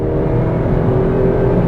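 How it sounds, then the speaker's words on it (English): A Suzuki Swift Sport 1.6 naturally aspirated hatchback engine revs hard under acceleration, a loud, steady, rising drone heard up close from inside the cabin with no talking. "I feel I owe it to the Swift to actually really try and get my foot down and experience the power delivery."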